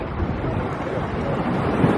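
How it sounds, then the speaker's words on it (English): Water laps continuously on the shore of Lake Garda, heard as a steady, close wash of water mixed with wind noise on the microphone, with no talking. "the sound of that water"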